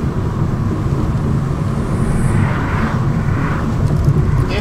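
Inside an Opel Adam Rocks cruising at 90 km/h, a constant broadband roar of tyre and wind noise fills the cabin, steady and unbroken with no voices.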